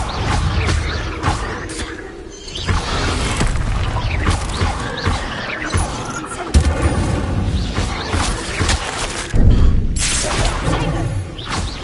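The Incendio fire spell is cast in Hogwarts Legacy, a dense roar of fiery whooshes, bursts and crashing impacts that continues loudly throughout with no pause.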